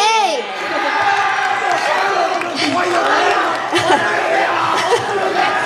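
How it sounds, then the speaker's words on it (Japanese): At a local idol group's Christmas-season live show, the audience cheers and shouts in a loud, continuous crowd roar with overlapping voices. "今日めっちゃ声援がすごいですね。"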